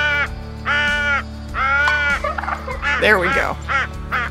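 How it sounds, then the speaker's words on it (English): Wild turkeys give repeated loud, harsh, harmonic mating calls in the hunting game Call of the Wild, set in New England mountains. Several calls come in a row and overlap near the end, with a brief spoken remark among them. "So they're doing the mating call because of the turkey crow collar"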